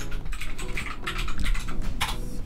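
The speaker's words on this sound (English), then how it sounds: "I've got this light-up keyboard." Rapid, close typing on a light-up computer keyboard, dense irregular key clicks and clacks with no talk.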